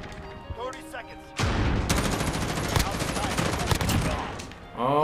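Loud, dense automatic gunfire in the Modern Warfare video game, a sustained rattling burst of rapid shots lasting several seconds, with brief game sounds before and after.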